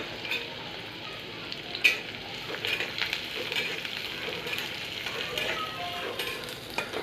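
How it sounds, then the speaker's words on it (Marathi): Finely chopped onion sautéing in a pan with garlic, a steady close sizzle with occasional stirring scrapes and no talk. "बारीक चिरलेला आता कांदा घालूया कांदा आपल्याला इथे छान परतवायचा आहे"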